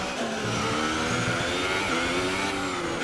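F1 race car engine in F1 2018 on a fast lap, a steady loud high-pitched drone with shifting harmonics as the car holds speed, continuous throughout with no talk.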